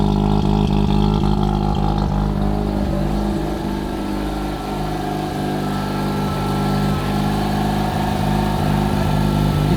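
A rotary-engined Corvette Z06 idles close by, a steady, slightly lumpy drone with an uneven pulsing beat that holds throughout at moderate loudness.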